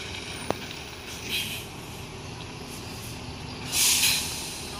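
An NPM bus sits at Muara Bungo bus terminal in the morning, its air brakes releasing two sharp hissing bursts, a short one early and a longer louder one near the end, over a steady low engine idle.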